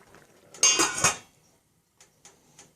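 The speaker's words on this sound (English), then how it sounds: "And then we cover it with a lid." A metal lid clatters onto a pot of boiling rice over low heat with a short ringing rattle, followed by a few faint light clinks in a quiet room.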